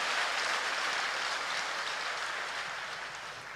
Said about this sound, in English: Let's clap our hands to the Lord for this great harvest.